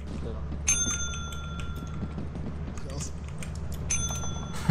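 A bell in the horror game Lethal Company rings twice, each a bright, ringing ding with lingering overtones, spaced a few seconds apart over a low background hum and some faint voices.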